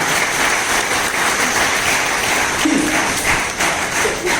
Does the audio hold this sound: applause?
yes